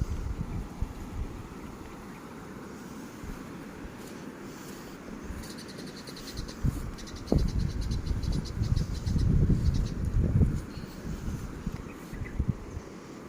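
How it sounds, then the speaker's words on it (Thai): Water flowing over a small waterfall outdoors, a continuous rushing wash that swells louder midway, with insects and faint chirps layered over it and no talk. "เสียงน้ำโตน"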